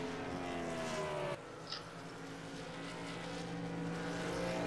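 A race car circles a New Hampshire oval track, its sustained engine roar steady and fairly loud, with a brief shift in pitch partway through and no talking.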